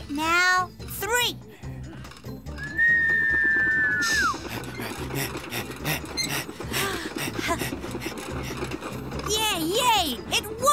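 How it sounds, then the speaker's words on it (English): A cartoon trolley engine gives a quiet whistle: a single steady tone held for about a second and a half, set among music, sound effects and children's voices. "And this was a quiet whistle."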